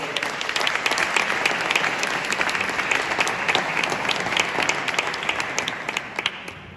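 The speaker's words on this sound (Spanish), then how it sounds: "Un aplauso para él, por favor." Crowd applause at a ceremonial oath-taking gathering in Caspe, many hands clapping in a dense, even patter that holds steady and then tapers slightly at the end.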